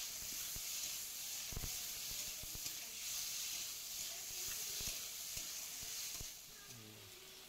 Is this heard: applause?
no